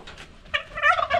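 Country fowl on a farm give a brief, loud, warbling gobble-like call, repeated in quick bursts close by.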